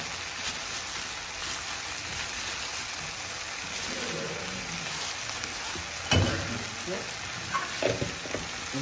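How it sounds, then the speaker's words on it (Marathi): Spiced onion masala with turmeric sizzles steadily in a hot pan over a high flame, giving a constant close frying hiss, with occasional scraping stirs and clanks toward the end. "आता मी चांगलं परतवून घेतो त्याला"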